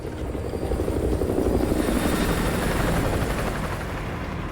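A helicopter flying over in the video game Modern Warfare 2 Remastered, a loud steady rotor thrum that swells slightly and holds close overhead with no talk over it.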